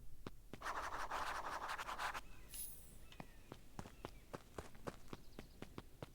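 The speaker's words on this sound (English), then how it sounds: "Luca heard a group of footsteps approaching." A group of footsteps approaches in the video game Beacon Pines, a run of sharp, evenly spaced thuds following a scratchy rustle and a brief high chime.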